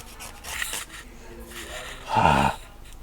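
Back glass is scraped off an iPhone XR by hand with a tool, giving short, close rubbing and rasping strokes. A brief voiced sound rises over the last scrape.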